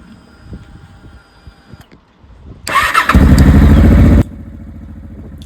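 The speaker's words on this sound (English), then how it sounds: "So I went to start the bike up again" A Honda XL700 Transalp motorcycle with a high-resistance stator connector fault, starter whirring briefly before the engine catches and roars loudly close by, then settles to a lower steady idle.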